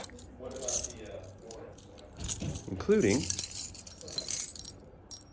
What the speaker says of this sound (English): I have so many keys now.